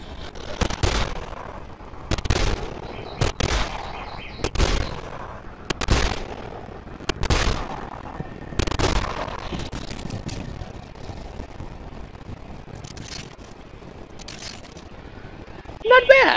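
Pistol shots in Dead Island, a series of sharp separate cracks fired at irregular intervals over several seconds, loud and close, with sparse talk in between.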